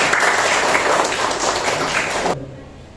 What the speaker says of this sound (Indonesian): Oke, tepuk tangan ya buat Anda.